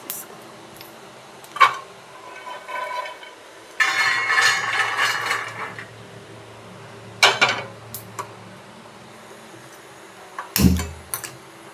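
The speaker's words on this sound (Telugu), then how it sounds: "మన పల్లీలు వేగాయండి. చక్కగా వేరే ప్లేట్లో వేసేసుకో." Roasted peanuts are moved onto another plate, with scattered clinks and scrapes of utensil against dish and a short rattling pour, separated by quiet pauses.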